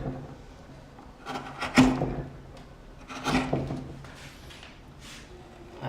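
A wood gouge makes a few short rubbing, rasping cuts into wood, shaping a rounded form toward the edge with small taps, with two louder strokes spaced about a second and a half apart.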